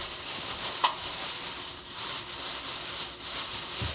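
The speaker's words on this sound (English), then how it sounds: "My grease is getting hot because I just heard it pop." Chicken frying in hot grease gives a steady close sizzle with a few small pops and crackles, and no voices.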